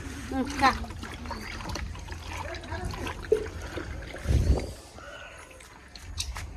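A cow drinks water from a bucket, its sloshing and slurping coming in uneven bursts beneath people talking nearby.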